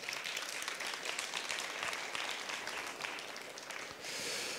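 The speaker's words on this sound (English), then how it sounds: "Applause for him." Audience applauding an ambassador coming on stage at a Bulgarian–British event, a faint, even wash of many hands clapping continuously for several seconds.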